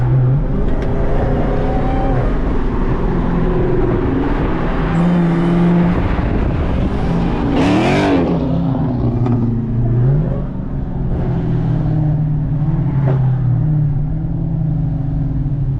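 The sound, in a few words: modified Dodge Charger Hellcat engine revving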